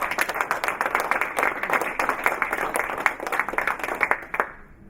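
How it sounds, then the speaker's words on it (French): A smaller audience applauding after a company CEO's speech, with distinct individual claps in a fairly quick irregular rhythm that fade out abruptly near the end. "On peut applaudir monsieur Matens."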